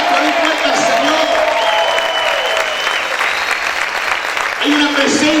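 A church congregation applauds loudly and continuously in a thick, steady wash of clapping, with voices calling out over it throughout.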